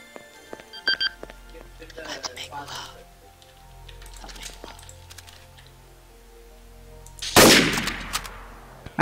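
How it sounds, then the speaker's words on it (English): Gunshots in Garry's Mod Trouble in Terrorist Town: scattered small clicks and taps, then one loud, sharp blast near the end followed by a short decaying tail, with faint voices around. "Anyone who's in this building, I'm shooting"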